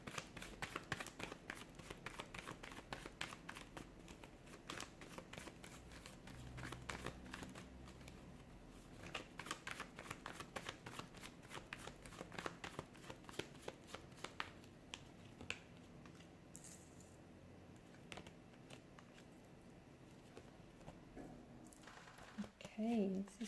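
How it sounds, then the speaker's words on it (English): Tarot cards are shuffled close to the mic in rapid riffling and snapping bursts, with softer card handling and rustles toward the end, all quiet and without talk. "give the cards a shuffle and begin."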